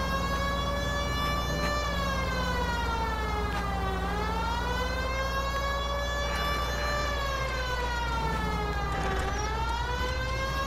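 Police car siren in the video game L.A. Noire, a loud, steady wailing tone that rises and falls in slow repeated sweeps over a low engine rumble, with no talking.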